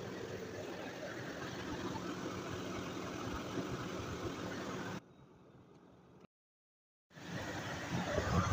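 A 2002 Toyota Sequoia engine idling with a steady broadband hum as the revs settle, then cut off to near silence before the idle returns.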